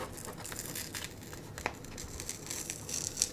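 Crinkly plastic wrapping on a tarot card deck being pulled and torn open, close and fairly quiet, with one sharp snap partway through.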